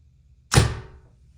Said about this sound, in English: we're gonna go ahead and take a few shots through the chronograph